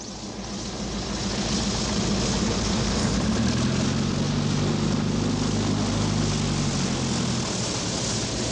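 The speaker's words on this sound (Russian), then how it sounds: "приземляется частный самолет с необычными пассажирами" A private propeller plane landing at a farm drones loudly and continuously, its low hum shifting slightly in pitch as it passes close by.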